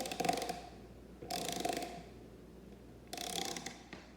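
A screw being tightened into a telephone wall jack gives three short bursts of mechanical ratcheting and scraping, each lasting about half a second to a second, separated by pauses.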